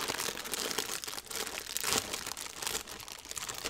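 A crinkly plastic Cheez-It snack bag rustles and crackles up close as it is pulled open, continuous crunchy crumpling throughout.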